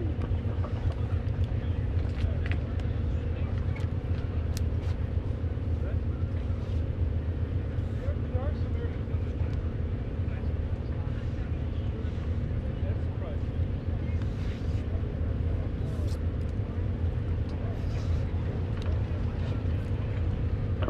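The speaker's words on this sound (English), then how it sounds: "we won't expect to see that crosswind technique on the C-45 Expeditor that's about to touch down on the numbers" A Beechcraft C-45 Expeditor, a twin-engine World War II transport, comes in to land at an airshow under a steady, distant drone of engine noise that continues throughout, with a commentator talking over it.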